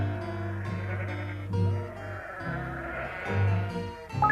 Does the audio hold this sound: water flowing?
no